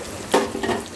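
Ginger garlic paste hitting hot oil in a pan for samosa filling gives a sudden bright sizzle with soft stirring scrapes, short and close, with no talk.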